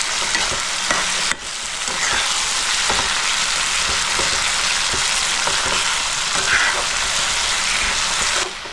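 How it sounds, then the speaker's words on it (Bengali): Chopped tomatoes sauté in a pan for chicken gizzard kosha, giving a loud, dense, steady sizzle that holds almost unbroken, with a brief dip near the start and faint stirring taps underneath. "টমেটো দিয়ে আমি 3 থেকে 4 মিনিট ভালো করে কষাই নেব"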